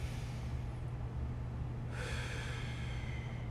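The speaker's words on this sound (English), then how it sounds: "I'm breathing in." A deep inhale through the nose during a wrist and forearm mobility exercise, a soft airy breath that swells into a louder rushing intake partway through, close and alone.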